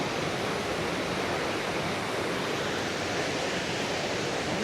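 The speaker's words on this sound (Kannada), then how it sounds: "ಫಾಲ್ಸ್ ನೀರು ಬರ್ತಾಯಿದೆ, ಅಲ್ಲಿ ಸೌಂಡ್ ಕೇಳಿಸ್ಬೋದು." Soochipara Falls in Wayanad roars as a constant, dense rush of falling water, loud and unbroken throughout with no voices.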